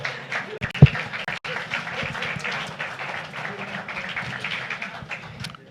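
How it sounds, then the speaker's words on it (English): Applause rises for an honoree at a city council meeting, scattered clapping from a modest crowd mixed with voices and murmuring in the room, with one sharp thump early on. "So, Daryl, we applaud you"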